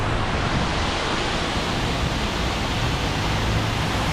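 A seasonal waterfall swollen after heavy rain roars steadily and loudly throughout, a dense unbroken rush of falling water with no voices.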